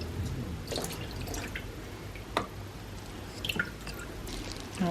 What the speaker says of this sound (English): Oh, look how much water is already coming out.